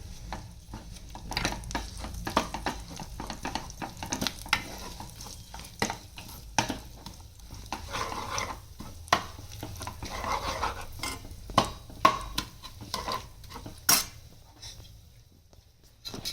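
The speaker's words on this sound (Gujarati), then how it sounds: "આ મસાલો આપણે તેલમાં 2 મિનિટ માટે સાંતળી લઈશું।" Masala sautéing in oil over a low gas flame for a farali ragda chaat: soft, steady sizzling with frequent spoon stirs and scrapes against the pan, fairly quiet and close, no talking.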